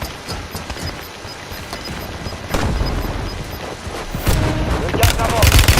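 Gunfire in the video game Warzone, with loud bursts of shots and booming impacts that grow heavier toward the end. Someone talks over the shooting.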